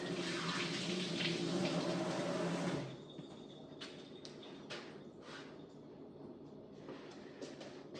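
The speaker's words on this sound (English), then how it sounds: "I'll wash my hands off a little bit." Hands washed under a running kitchen tap, a loud steady stream of water for about three seconds, then quieter clinks and handling.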